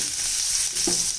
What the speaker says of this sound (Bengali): তেলটা গরম হয়ে গেলে এর মধ্যে দিয়ে দিলাম রসুনের কুচি।